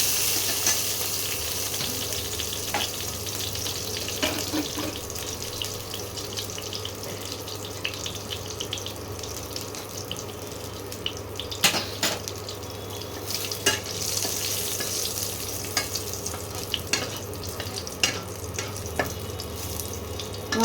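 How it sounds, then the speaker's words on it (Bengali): Whole cardamom pods, cloves and cumin seeds sizzle steadily in hot oil in a home kitchen, a continuous close hiss with a few faint clinks of a utensil and no talking. "দুটো এলাচ, দুটো লবঙ্গ দিয়ে দিলাম, আর সামান্য গোটা জিরে। এটা ফোড়নে দিতে হবে।"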